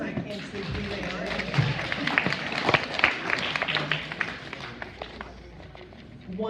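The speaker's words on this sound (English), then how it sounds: "Give her a round of applause." Audience applause at a general club meeting, scattered clapping and taps rising and falling over a few seconds, mixed with murmured crowd talk and room noise.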